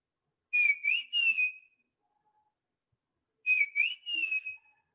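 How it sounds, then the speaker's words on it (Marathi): A male bird that nests in mango trees gives its familiar whistled call, a bright rising-and-falling phrase of three quick notes, repeated twice with a long quiet gap between, clear and alone. "याचा जो नर आहे त्याची एक नेहमी ऐकू येणारी शिट्टी"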